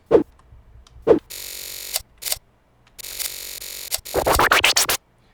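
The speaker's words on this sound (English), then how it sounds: "My death sound works great." A Unity video-game death effect: clicks, then harsh buzzy synthetic bursts, ending in a rapid flurry of rattling hits, close and loud.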